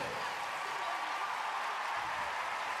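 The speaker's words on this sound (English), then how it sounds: "rapturous applause and a warm welcome from the Montreal crowd for Federica Simioli and Alessandro Zarbo" Applause from a Montreal arena crowd at a figure skating world championships pairs event, a steady, distant wash of clapping that fills the whole moment without a break.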